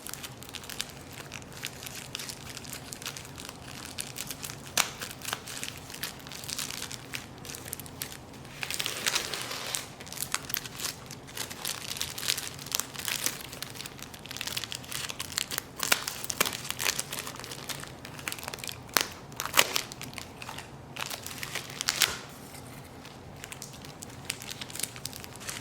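A potted Cat Hoa Loc mango seedling is cut out of its container near the trunk, giving quiet, scattered crinkling and crackling snips with no talk.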